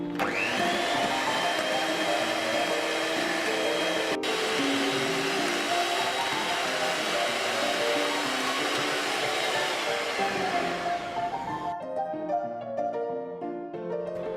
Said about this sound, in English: Let's whip it once more.